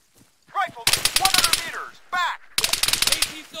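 Rifle gunfire laying down covering fire in Arma 3, loud rapid bursts of shots in two long volleys, broken by shouted voices between them.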